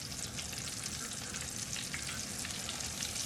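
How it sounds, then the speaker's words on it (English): Chicken pieces fry in a large skillet for a country-fried chicken dish, giving a steady, dense sizzle and crackle close by with no talking. "So I'm gonna put my chicken in there."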